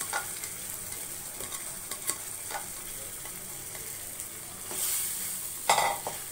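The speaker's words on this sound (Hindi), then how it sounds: "अब हम इसमें जो चिकन ऐड कर रहे हैं" Marinated chicken going into a creamy mustard handi gravy, sizzling and frying with occasional stirring scrapes and a louder hiss burst near the end, no talking.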